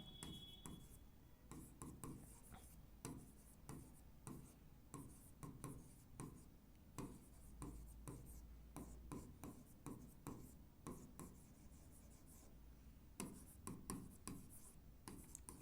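Names of months written by hand with pen on paper, a continuous run of quick scratchy strokes and short pauses, close and quiet.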